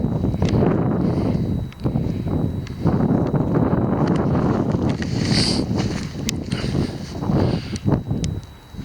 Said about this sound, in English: that wind is getting up, so I hope the audio